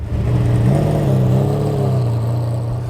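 A GMA T.50 supercar pulls away on a test track, its engine rising in a smooth, steady hum that swells slightly and holds loud and close, with no talk.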